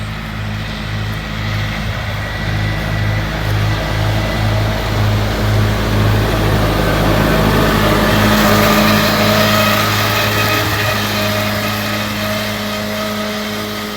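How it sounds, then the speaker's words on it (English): A tractor engine runs during haymaking on a sunny day, a loud, steady low drone with a faint rhythmic throb, continuous and close for the whole stretch with no talking. "we've got the tractor out"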